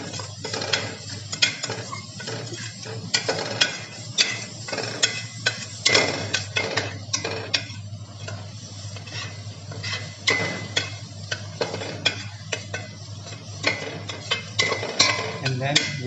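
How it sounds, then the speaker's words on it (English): Sautéing in a pan with a utensil, a busy run of clinks, scrapes and taps against metal over a low steady hum, close and irregular throughout. "We will saute it well."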